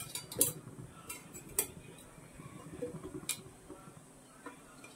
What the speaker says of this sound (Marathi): काळी मिरी तडतड आवाज येत आहे